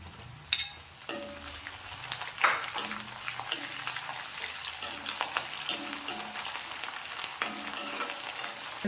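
Garlic and green chilies fry in hot oil in a pan while a lemon pickle is being made. A steady close sizzle is punctuated by scraping stirs and occasional clatters.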